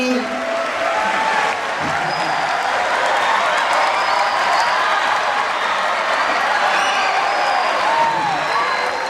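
An audience at a book discussion event gives Professor Muhammad Bahrun sustained, dense applause that holds steady for the whole stretch, with scattered voices murmuring underneath.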